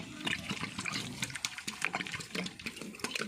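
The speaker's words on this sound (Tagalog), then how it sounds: "so lagyan na natin siya ng tubig" Water poured from a container into dry chicken and duck feed to mix it, a steady close splashing pour with gurgling bursts running throughout, no voices.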